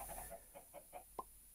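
Several short chicken clucks from a block-building video game, spaced in a loose rhythm and fairly quiet, with one sharper, brighter cluck near the end and no talking.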